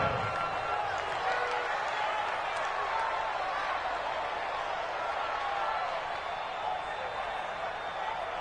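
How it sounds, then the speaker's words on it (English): At a football game, a big stadium crowd sends up a steady roar of cheers and applause that holds for several seconds as play builds toward a key third down. "the crowd getting into it as we come up on a big third down"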